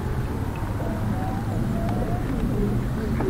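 Pigeons coo softly in a garden, a low, muffled murmur heard at a distance against a steady outdoor background hum.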